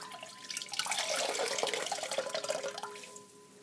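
Water from a wet crocheted broomstick lace shawl being wrung out splashes and drips into a sink or basin, a close, steady trickling lasting a few seconds before tapering off.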